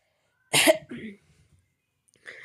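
A single harsh, forceful cough up close, followed by a softer throaty trailing sound, then a brief faint noise after a short silence.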